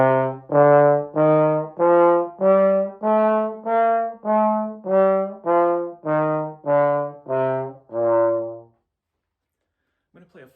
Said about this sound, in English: going to play a song for you now, and it's entitled When the Saints Go Marching In.